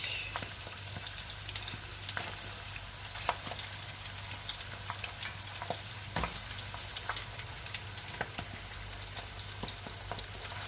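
Meat and a fish head fry in a pan with a continuous crackling sizzle, scattered pops and spits over a low steady hum.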